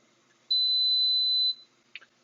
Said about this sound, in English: my oven is telling me that we're beeping